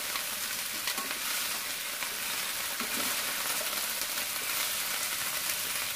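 Bitter gourd (ampalaya) sizzles steadily while stir-frying in a pan, a dense constant crackle with faint scraping stirs underneath, close and even throughout.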